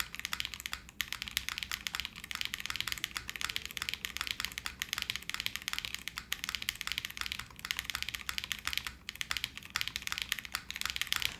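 Fast, steady typing on a Pluto TKL mechanical keyboard fitted with Honeydew switches, a dense close run of crisp, solid key clacks with no one speaking.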